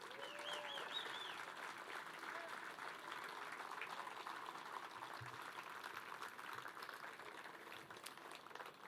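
Steady crowd applause for a church band and singers at a city's state-of-the-city address, a dense, continuous wash of clapping from a large audience lasting several seconds with faint voices and a short musical tone early on.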